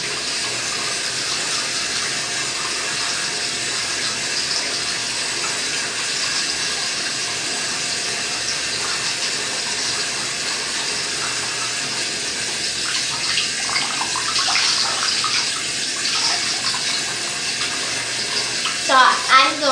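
Steady running water from a tap filling a sink for face washing, a constant wash of noise that carries on for the whole stretch, with some splashing and handling near the end.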